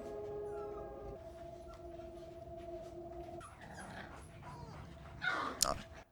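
A dog whimpers and whines in a scene from the Chernobyl TV series, thin high cries at the start, then scuffling and a brief louder burst near the end, with faint background voices.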